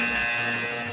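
A game's buzzer sound effect: a flat, steady electronic tone with strong harmonic bands, lasting about a second at constant loudness before it cuts off.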